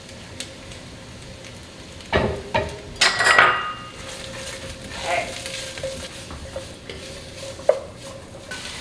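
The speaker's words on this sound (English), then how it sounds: "we're going to let these onions get translucent" Chopped white onions sauté in a pan until translucent, with faint frying and several louder clinks and scrapes of a utensil stirring against the pan, heard alone without speech.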